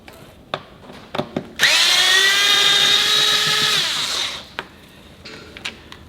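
A power drill spins out the airbox lid screws on a Kawasaki Ninja 650, one close, loud whirring burst of about three seconds with a pitch that rises and falls, set between sharp clicks and taps of handling.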